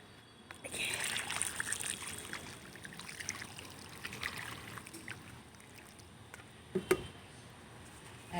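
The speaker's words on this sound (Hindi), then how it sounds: "पानी डाल दे रही हूँ।" Water is poured into a potted pomegranate plant on a terrace, making a soft trickling splash for several seconds that fades, then a couple of brief knocks.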